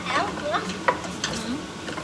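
Frozen spinach and minced meat fry in a pan, a steady soft sizzle with a few stirring scrapes and knocks.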